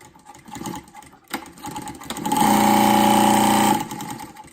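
A SEWPRO 0617D-7 walking foot sewing machine runs a steady, loud stitching burst of about a second and a half, preceded by softer mechanical clicks and shuffling, with no voices.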